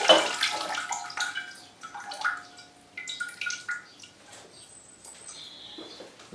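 Water from a tap splashes and drips over a potted orchid in coconut husk, an uneven close trickle with scattered droplets and small surges, fading in places.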